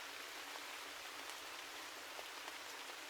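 Gentle rain falls steadily in a dense, even patter, a soft continuous hiss of drops on surfaces with no voices.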